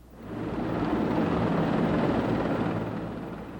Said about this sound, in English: workers on the Bay Bridge were buzzed by a couple of helicopters